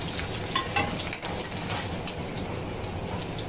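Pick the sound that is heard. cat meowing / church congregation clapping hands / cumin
cumin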